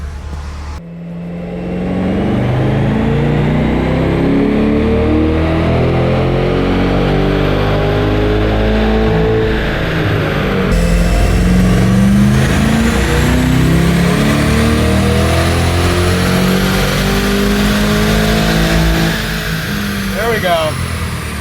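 A 2024 Chevrolet Corvette E-Ray hybrid runs a fourth-gear dyno pull, its engine note rising steadily and loud for about twenty seconds, with no talk over it.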